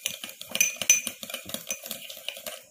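A spoon stirs coconut oil and lemon juice together in a small bowl, giving a close, steady run of light metallic clinks and soft scraping taps with no voices.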